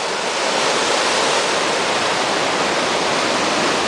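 Storm-surge ocean surf pounding a beach at night in Icaraí: loud, dense, continuous roaring wash with no pauses or distinct breaks, close and enveloping.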